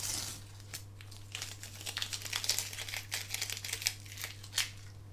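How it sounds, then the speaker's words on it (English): Masking tape is peeled off embroidery backing material, a quiet close series of crinkling, crackling tears with irregular bursts over a faint steady hum. "I'm just going to peel away all of the masking tape that I used to hold the backing"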